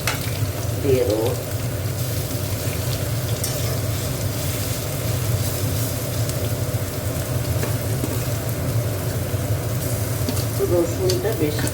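Garlic frying in a pan alongside eggplant, steady continuous sizzle with stirring scrapes throughout, fairly close and even in level.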